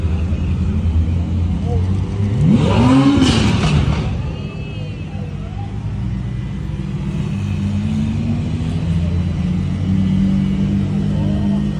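A sports car engine rumbles loudly past at Monterey Car Week, a deep surging roar that swells and fades, with a rising and falling whine, followed by a lingering low rumble and faint background voices.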